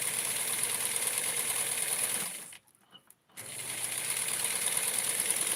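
Sewing machine stitching chiffon for a 1970s-style Barbie wedding dress, a loud, fast, even whir that runs steadily, stops briefly for a moment of quiet with small clicks, then resumes.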